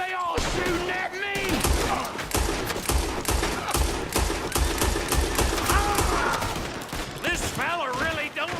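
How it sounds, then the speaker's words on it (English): Gunfire rages in the Red Dead Redemption 2 game: dense volleys of loud rifle and pistol shots crack in rapid, overlapping bursts throughout, with a voice talking faintly beneath. "Why are they all shooting at me?"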